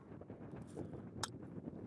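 Strong wind buffets the microphone with a low, steady rumble and occasional gusty bumps while fishing outdoors, fairly loud and without talking.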